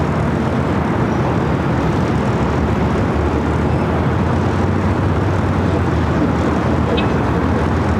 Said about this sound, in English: 453 Super taking off to Munich on the A380.